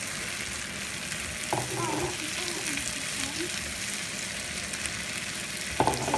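Peppers hit a hot pan for chili paneer and fry with a steady, fairly loud sizzle, with a couple of brief clatters of the spoon or pan near the start and end.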